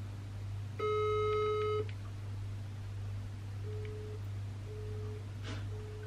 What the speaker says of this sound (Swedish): Tryck upptaget.